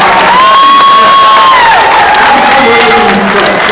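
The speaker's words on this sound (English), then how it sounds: "A big round of applause." Audience at a candidate forum erupts in very loud cheering and applause, with whoops and shouting voices over dense clapping, close and continuous.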